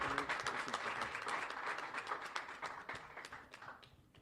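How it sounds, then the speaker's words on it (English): A crowd gives a round of applause for Attorney Ben Crump at a rally for Stevie Jones, dense clapping that holds steady and then thins out toward the end, heard from some distance. "Let's give him a well-deserved round of applause"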